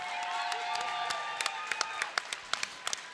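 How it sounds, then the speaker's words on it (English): A crowd at a women's catchweight fight event applauds the two fighters. A soft wash of clapping thickens into sharper, distinct claps toward the end, over a faint sustained tone. "ladies and gentlemen, one last round of applause for these 2 amazing fighters."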